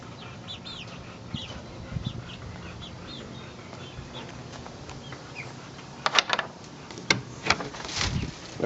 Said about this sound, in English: the chickens are in there making themselves at home.